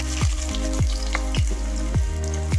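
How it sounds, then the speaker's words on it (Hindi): Onions frying in hot oil in a pan, a steady close sizzle with repeated soft popping crackles at a regular rhythm, no voices over it. "पैन में सबसे पहले हम ऑयल डालेंगे, तेल गर्म हो चुका है, मैं इसमें प्याज डाल रही हूँ।"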